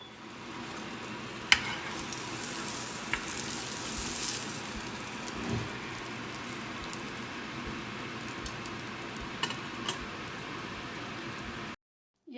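Whole wheat bread pakora stuffed with potato and cheese frying in hot oil, giving a steady close hiss and sizzle with occasional faint crackles that runs unbroken for several seconds before a brief cut to silence.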